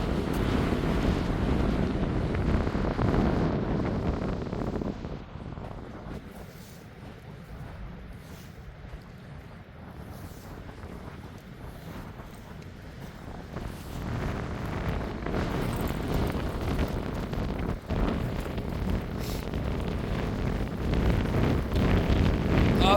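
Wind buffets the microphone on a beach at Wainuiomata, with a continuous roar of surf and gusts that ease in the middle before building again, close and fairly loud, with no talking.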